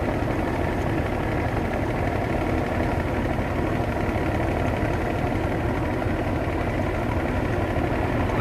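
A cargo ship's engine drones loud and steady at close range while the vessel slowly overtakes another ship on the river, a continuous low rumble with no voices.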